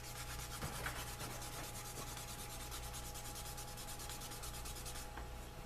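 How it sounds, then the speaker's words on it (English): A burnisher rubbed steadily back and forth along a lightly dampened leather edge makes a continuous close, dry friction sound with no breaks, heard on its own. "just rub the burnisher across"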